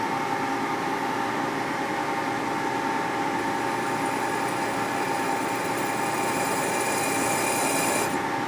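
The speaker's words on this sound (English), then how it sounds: "now we go ahead and put our center drill in there." Center drill cutting into the exhaust port of a 1977 74ci Harley-Davidson Shovelhead cylinder head during machining repair: a steady, continuous rasping grind with a constant machine hum throughout, close and even, no talk.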